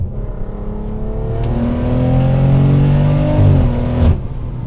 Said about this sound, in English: Let's do a quick pull.